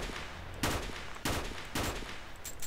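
Gunfire in the video game S.T.A.L.K.E.R. Shadow of Chernobyl: three sharp, evenly spaced shots about half a second apart, close and loud, with no talk.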